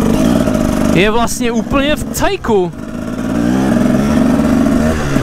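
A Husaberg TE 300 dirt bike's engine revs in a few sharp bursts close by, then settles to a steady idle, with someone talking over it.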